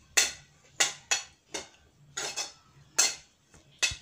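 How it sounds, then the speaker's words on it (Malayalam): A utensil stirs carrots sautéing in ghee in a pan for carrot halwa made with rice-water, giving about eight sharp metallic clinks and scrapes in an irregular rhythm, close and clear, with no talking. "ക്യാരറ്റ് നന്നായി വഴറ്റിയെടുക്കണം. നെയ്യും നല്ലതുപോലെ വഴറ്റിയെടുക്കുക."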